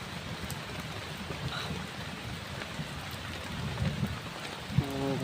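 Steady rain falls outdoors, a dense, even hiss that swells slightly toward the end, with a few soft low thuds mixed in and no voices.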